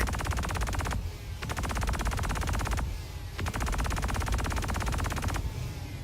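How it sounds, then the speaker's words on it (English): Guns on an Anvil Valkyrie dropship in Star Citizen fire in three long, rapid automatic bursts with brief gaps between them, loud and close, with no voices. "And that's firing to the rear back at Hurston."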